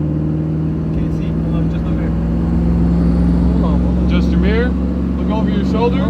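A 1965 Chevrolet Impala, driven again after sitting for over ten years, pulls out onto a street with a loud, steady low engine drone from inside the cabin while people talk over it.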